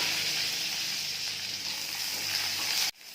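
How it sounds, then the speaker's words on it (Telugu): Onion pieces sizzle steadily in hot oil in a pan while a village-style brinjal buttermilk curry is being cooked; a loud, continuous hiss runs for about three seconds, then cuts off abruptly. "ఇప్పుడు ఉల్లిపాయ ముక్కలు వేసుకోవాలి."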